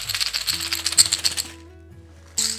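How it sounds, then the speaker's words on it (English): A Rwandan shaker of woven grass and leather, filled with seeds, rattled in quick bursts up close with a pause before a final shake. "These are woven together with grass and then a piece of leather, and inside there are seeds."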